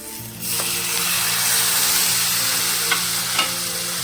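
Chopped tomato fries and sizzles in a pan with browned onions for palak tomato curry, a loud, steady hiss beginning abruptly and continuing throughout, with a few faint scraping stir clicks.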